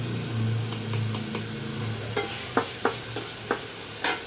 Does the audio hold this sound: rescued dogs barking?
no